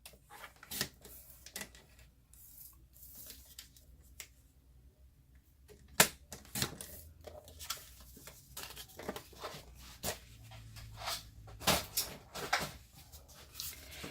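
Cardstock cut down to size for a handmade Halloween card, heard as scattered sharp slicing and snapping strokes with paper handling between them, close and fairly quiet, with no talking.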